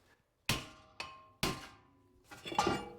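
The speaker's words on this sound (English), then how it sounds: "we can hit in between our wheel studs" Three sharp, ringing hammer strikes on the brake rotor of a 2008-2012 Honda Accord, landing between the wheel studs, each a loud metallic clang with a short decay, the last blows coming closer together.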